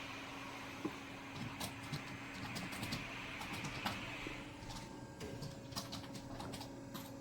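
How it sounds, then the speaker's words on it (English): A Wenming dry ice pellet machine processes dry ice into pellets, producing a steady, fairly faint mechanical hum with a constant tonal whine and scattered sharp clicks and ticks, with no talking. "you see that the dry ice is out. This is the processing."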